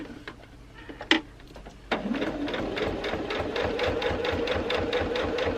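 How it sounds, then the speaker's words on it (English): Sewing machine stitching a fabric card wallet near the edge, a couple of clicks and a thud before a fast, even run of needle strokes starts and continues close up. "I'll just do a few back stitches just to strengthen that"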